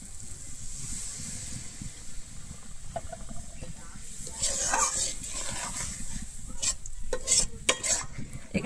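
Water goes into a pan of egg korma being cooked in a Bengali village kitchen, with a steady hiss and sizzle under scraping stirring strokes that grow busier toward the end.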